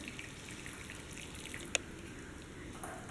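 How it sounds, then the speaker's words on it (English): Whey drips and trickles faintly from curdled milk poured into a strainer for making paneer, a soft continuous wet patter with one sharp drip standing out. "I am transferring this into this strainer."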